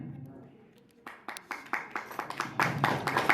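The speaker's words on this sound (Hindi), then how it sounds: "तालियां बजती रहेंगी तो उत्साह" An audience at a women's society ceremony honouring newborn girls starts clapping after a near-silent second, and the sharp, fairly close claps build into a steady, quickening round of applause.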